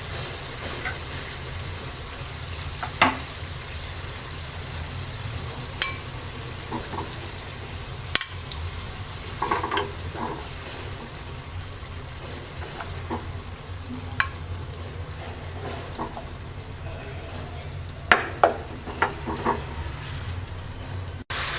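Tangra fish frying in hot oil in a pan with potatoes and bitter gourd nearby, a steady low sizzle broken by soft scraping clicks of stirring at irregular intervals, no voices.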